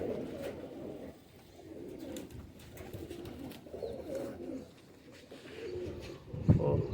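Fancy pigeons coo repeatedly in low, rolling throaty phrases close at hand, one after another, with a louder coo near the end and little else around them.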